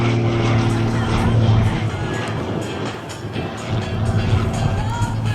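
A light aerobatic propeller plane performs rolls and turns at an air show in Azelot, its engine droning steadily and loudly with a rising and falling pitch, while people talk over it.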